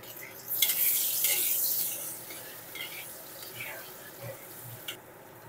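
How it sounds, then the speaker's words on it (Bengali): Cut potatoes seasoned with salt hit hot oil with a loud, bright hiss that fades after a couple of seconds into a quieter steady sizzle with occasional small pops and stirring clicks, heard up close. "এই তেলের মধ্যে কেটে রাখা আলুগুলো ভেজে নেব"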